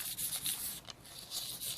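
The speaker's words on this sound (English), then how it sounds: "So I'm just sanding it" Light hand sanding over a painted, textured art surface with a silver layer, giving soft rhythmic scratchy strokes, close and quiet with a brief pause midway.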